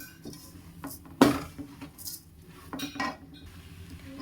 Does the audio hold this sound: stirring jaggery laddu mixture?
yes